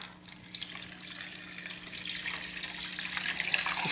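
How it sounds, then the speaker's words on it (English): Liquid, likely fuel for a Coleman 200A lantern, poured into a bucket in a garage, a soft continuous splashing trickle that grows slightly louder over a few seconds, no talking. "So now we'll put it in our bucket. And we'll fill her up."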